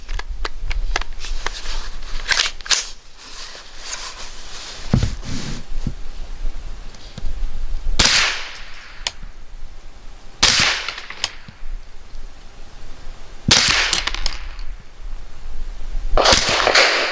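Thompson Center TCR22 rifle firing Aguila 22 Super Extra 40 grain rounds, several sharp, fairly light cracks spaced seconds apart, with faint handling noise and rustling between shots.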